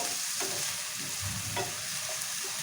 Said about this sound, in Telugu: మంచిగా ఎర్రగా అవుతాయి కదా ఉల్లిగడ్డలు, అట్లా ఫ్రై చేసుకోవాలి.